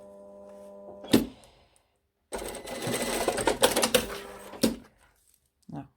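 A domestic sewing machine stitches a zip pocket on a Perfecto jacket: a short burst, a pause, then a longer rapid mechanical chatter of stitching, close and clear, ending with a brief final whir.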